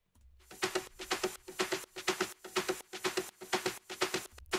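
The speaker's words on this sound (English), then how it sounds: "So our wet percussion sounds like this." Wet-sounding percussion loop made in Ableton Live, a close, quiet pattern of soft splashy hits repeating in a steady, even rhythm, with no talking.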